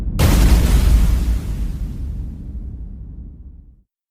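A spaceship's main cannons fire in a Star Wars audio drama, one loud booming explosion that erupts suddenly and rumbles away over several seconds before cutting to silence, with no voices.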